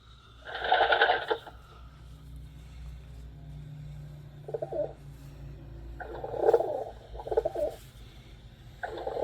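A homing pigeon just back from a long flight coos in soft, low, repeated bursts, close by and quiet, with a low background hum.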